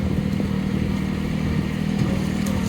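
A Solis H24 Plus 25 hp tractor engine running steadily while moving large trees, a continuous low, rumbling diesel drone with a faint mechanical clatter over it, even in loudness throughout and with no talk.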